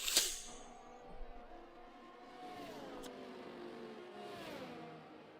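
Formula-style race cars in a racing video game, engines whining with rising and falling pitch as cars shift and pass one another, a steady mid-distance roar with a sharp click at the start.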